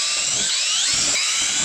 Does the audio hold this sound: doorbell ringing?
no